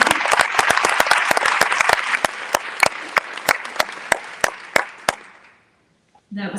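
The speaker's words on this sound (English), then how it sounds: "Let's give our students another round of applause for being here this morning." Audience applause for students at a Hartselle City Schools welcome reception, a dense crowd of clapping that thins into a few scattered claps before fading out, then a brief voice at the end.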